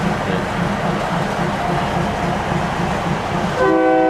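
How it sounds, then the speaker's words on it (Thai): A train rumbles steadily with rhythmic rolling clatter, then a loud horn blares near the end as it pulls away from Bang Bon station in Bangkok, Thailand. "นี่รถไฟกับเครื่องขบวนออกจากสถานีบางบอน"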